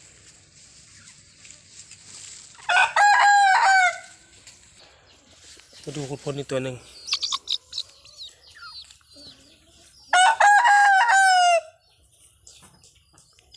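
Two loud crows from roosters about five to six months old ring out several seconds apart, with someone speaking briefly between them and faint clucking in the background.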